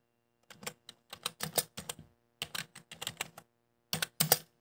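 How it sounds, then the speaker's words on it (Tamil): Typing on a mobile phone's keyboard, a quick run of light, close taps in bursts with short pauses between, clear and alone in a quiet room. "நான் வந்து டைப் பண்ணுறேன்"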